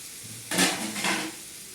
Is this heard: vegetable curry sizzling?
yes